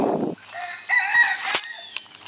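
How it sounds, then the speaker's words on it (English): Backyard chickens at a lakeside home cluck and crow in short, close, fairly clear bursts after a brief rustle, with light handling noise between calls. "There's the chickens."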